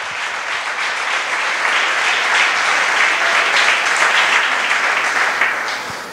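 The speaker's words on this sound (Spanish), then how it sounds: "Fuerte ese aplauso a Cristo." Steady, dense applause from a church congregation during a worship service, loud and sustained for several seconds before easing off at the end.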